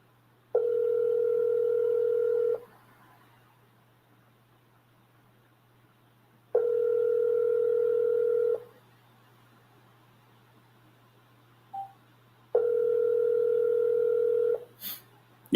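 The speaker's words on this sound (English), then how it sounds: "we got it ringing, but we're getting no answer." A telephone ringback tone on an unanswered call repeats three times, each steady two-second ring separated by about four seconds of quiet, with a low constant hum underneath and a brief click near the end.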